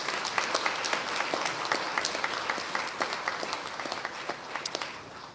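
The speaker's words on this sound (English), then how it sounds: "They deserve a round of applause." Audience applause at a legal conference on criminal justice reform held by the Bar Association of Guyana, a steady dense patter of many hands clapping, fairly close and sustained, with a few sharper claps rising above the crowd.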